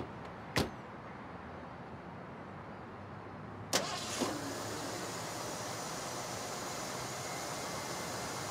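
A car door thumps shut, and a few seconds later a car engine cranks and catches, settling into a steady idle that carries on to the end.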